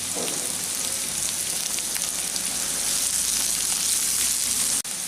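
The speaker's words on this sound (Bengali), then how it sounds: "দিয়ে দিচ্ছি এর মধ্যে একটা ছোট সাইজের খুব ছোটো ছোটো করে কুচানো পেঁয়াজ" Finely chopped onion sizzles loudly and steadily in hot oil with cumin, a dense, close frying hiss that holds at even strength before a brief dip near the end.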